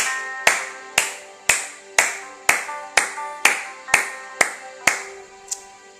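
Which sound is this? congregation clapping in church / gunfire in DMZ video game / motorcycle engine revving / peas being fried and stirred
congregation clapping in church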